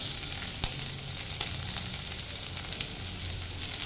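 Chopped garlic and onion fry in a pan for Hakka noodles, giving a steady, quiet sizzle with a few small crackles and stirring clinks, and no voices.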